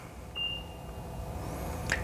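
A short electronic car beep sounds once near the start, confirming a new key was learned, followed by a faint tone and a brief chirp against a quiet humming background.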